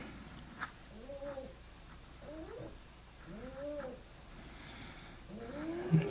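A pug snores in its sleep, giving wavering, nasal breaths that come and go every second or so as a faint, steady background to a quiet room.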